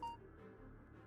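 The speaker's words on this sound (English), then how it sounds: "And that's my phone beeping." A mobile phone gives one short, faint electronic beep at the very start, then a quiet room hum.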